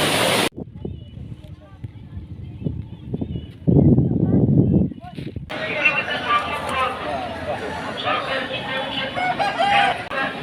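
Chickens cluck and a rooster crows at a roadside fowl stall, mixed with people talking and steady background noise from a rushing stream nearby.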